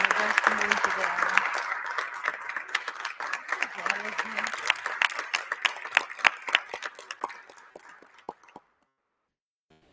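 An audience at a panel on social work and anti-racist struggles applauds. Dense clapping under some talk at first thins into scattered claps and fades to silence near the end.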